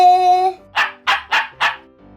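Four short, sharp dog barks in a steady rhythm, close and clear, following a brief held electronic tone.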